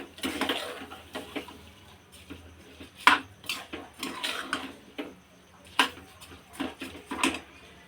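A spoon stirs soaked rice with spices inside a metal pressure cooker, giving scattered clinks and scrapes against the pot at an irregular pace, close and moderately loud with no talking.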